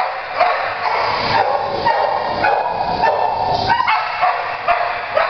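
A shelter dog barks in a run of repeated yaps and woofs against a noisy, echoing background.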